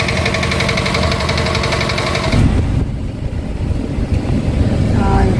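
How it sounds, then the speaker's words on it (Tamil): A mini tractor's engine chugs loudly nearby with a steady knocking rhythm, then the tone shifts as the load changes and it carries on running rough and close. "Tractor, mini tractor."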